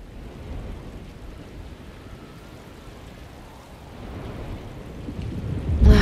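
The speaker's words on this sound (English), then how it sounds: "Looks like a storm's coming." Steady rain and a low thunderstorm rumble from the video game Alone in the Dark, a constant wash of sound that swells louder toward the end.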